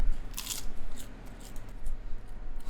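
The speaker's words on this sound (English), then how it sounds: "That's a good crunch." Crunchy bites into an eco-friendly drinking straw being eaten, a few sharp crackly crunches close to the mic near the start and again later, with no talking.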